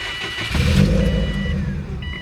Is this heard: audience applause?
no